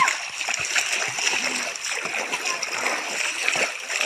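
Water splashes and gurgles in a small river in the Konkan, a steady broadband wash with brief louder splashes throughout, close by, with faint children's voices in the background.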